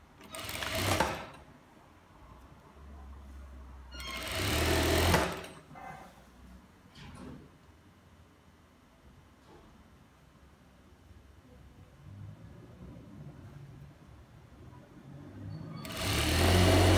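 A sewing machine stitching palazzo trousers, running in loud bursts of whirring at the start, middle and end, with quieter handling noise between runs.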